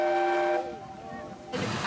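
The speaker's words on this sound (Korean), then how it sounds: "증기기관차가 출발 준비 중이다." An old steam locomotive at the Wadi Rum train station in Jordan sounds its whistle, a loud, steady, multi-toned blast that cuts off and is followed by a burst of steam hiss.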